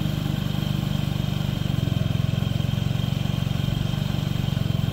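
A liquid-cooled Honda Ruckus scooter engine idles after its first true cold start of 2024, putting out a steady, close, loud pulsing putter that holds an even rhythm throughout, with no talking.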